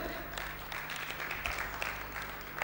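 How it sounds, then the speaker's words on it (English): Audience at a marketing convention seminar session in Lahore applauding a participant, a soft even patter of clapping heard from a distance in a large room. "Can we have a big round of applause for him?"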